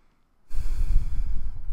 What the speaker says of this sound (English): Big, deep inhale through your nose and easy, long exhale.